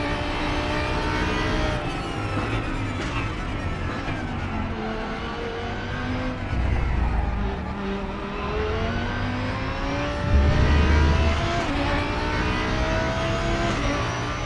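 A Lamborghini DTM race car in the RaceRoom game at Zandvoort screams at high revs, gears shifting as the engine pitch climbs and drops, with a brief louder surge near the end.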